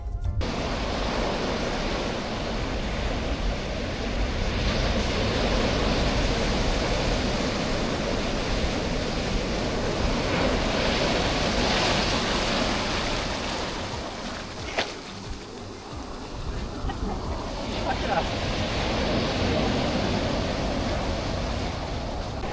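Atlantic Ocean surf on a beach in northern Fuerteventura gives a steady, broad roar with a few louder swells and one sharp splash midway, continuous and close, with no speech.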